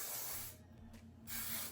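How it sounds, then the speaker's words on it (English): Good Behavior heat protectant sprayed onto hair: two quick aerosol hisses, one at the start and one at the end, separated by a brief quiet gap, close and soft with no talking. "I'm gonna go ahead and spray Good Behavior"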